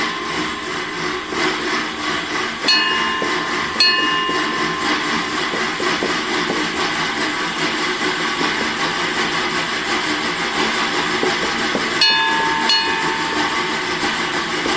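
A drummer's mechanical sound-effect device imitates a train, giving a steady, continuous rumbling wash with faint clicks and a few sharp accents, close and fairly loud with no talking.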